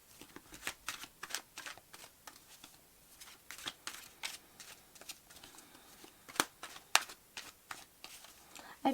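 Tarot cards are shuffled and drawn, a run of quick, crisp riffling flicks and slaps at an uneven rhythm, close by, with a voice talking quietly underneath.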